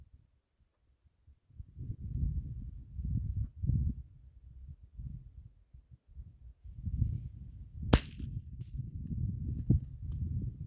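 A single sharp crack from a Remington 597 .22 LR rifle rings out once, loud and close, over a steady low rumble of wind and handling noise at an outdoor range.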